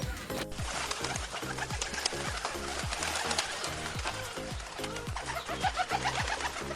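Pigeons coo in a loft, their low rhythmic coos repeating steadily and close up against a busy background of rustling and bird chatter throughout.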